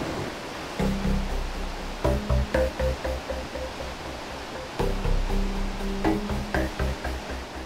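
Water of the Kali river in India rushes and churns steadily near where a tributary pours in, a continuous broad roar with surging swells and a faint tonal layer drifting over it.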